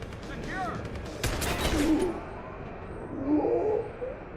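Turret gunfire in the Deus Ex Human Revolution video game, a short burst of rapid shots partway through, with muffled voices and swooshing effects around it.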